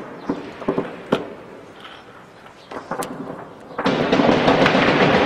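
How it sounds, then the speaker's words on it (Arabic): Explosions in the Baba Amr district of Homs come as scattered distant booms and thuds, followed by a denser rumbling wash of noise toward the end, with no talk. "5 أيام أصوات انفجارات على مدار 24 ساعة بحي بابا عمر بحمص"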